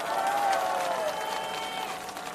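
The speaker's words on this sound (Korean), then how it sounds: "박수 한번 보내주세요" A crowd applauds at an outdoor political campaign rally at a Seoul street intersection, steady dense clapping with a few cheers swelling early then holding level, a voice on the PA faintly in the mix.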